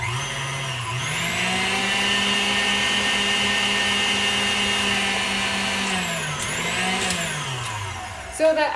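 Blender whirring steadily as it mixes a muffin batter of coconut flour, collagen and cacao, a loud motor drone with a rising pitch shift near the start and brief changes in tone before it winds down.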